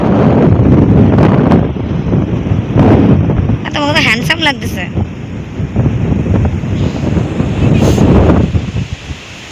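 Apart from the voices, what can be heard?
strong wind on a beach, wind noise on microphone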